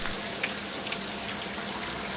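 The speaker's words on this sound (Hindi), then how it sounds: "अचानक तेज बारिश शुरू हो गई।" Heavy rain falls in a steady, dense hiss of drops, continuous and even throughout with no voices.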